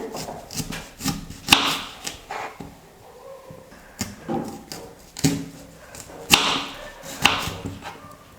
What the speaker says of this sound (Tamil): எல்லா வெங்காயத்தையும் நான் இந்த மாதிரி கட் பண்ணி எடுத்துக்கிட்டேன்